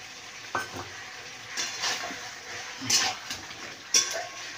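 Fried potatoes stirred into a chicken curry in a pan, with a soft sizzle under a few distinct scrapes and clinks of a spoon against the pot, fairly quiet and close.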